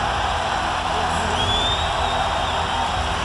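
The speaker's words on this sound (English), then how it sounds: "Crowd is so into it." A large tennis crowd at a men's singles championship final roars and cheers continuously, a loud, sustained wash of applause and whoops with a whistle rising above it.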